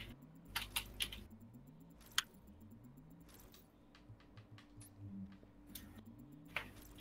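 A loud mechanical keyboard clacks in uneven bursts of crisp key presses during a live-streamed game, close to the microphone, with a low hum and faint rising game tones running beneath.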